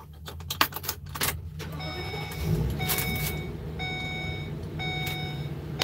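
Keys jangle up close, then a parked car's engine idles with a steady hum while a repeating electronic chime beeps in regular bursts.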